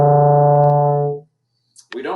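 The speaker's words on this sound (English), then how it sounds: "Now, some of you may get a higher sound like this." A beginner's tuba note sits higher than the intended low tone and is held steadily for about a second before fading. A brief voice follows after a short silence.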